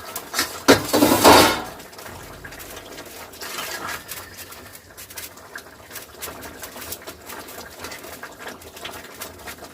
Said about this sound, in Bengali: আমি এবার ঢাকনাটা আলাদা করে দিচ্ছি।